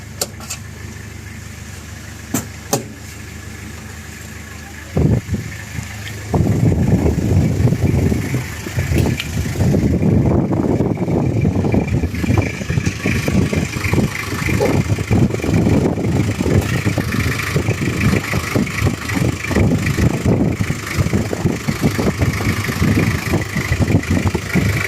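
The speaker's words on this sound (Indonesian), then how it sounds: "Kalau kita dengarkan ini suaranya sangat khas kijang diesel." Toyota Kijang Krista 2003 diesel engine idling close by, a steady low rough clatter that starts abruptly after a few seconds of quiet and then runs continuously and loud with a chugging rhythm.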